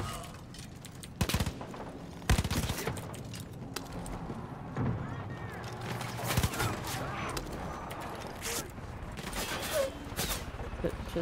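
Sniper gunfire in Far Cry 5: a handful of sharp, loud cracks spaced a few seconds apart, over a busy game soundscape, with people talking in between.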